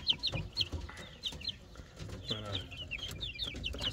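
Adler chicks cheep in quick, high, repeated bursts, several birds chirping close by over low background noise and occasional thumps.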